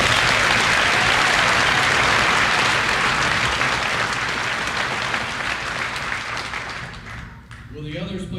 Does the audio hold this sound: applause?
yes